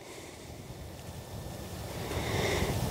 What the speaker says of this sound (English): Out here, the wind is blowing.